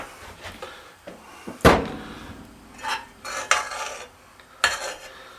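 A plastic lid snapped back onto a tub of lard (manteca) in a home kitchen, one sharp loud click followed by a few softer knocks and clatters, close up and with no talking.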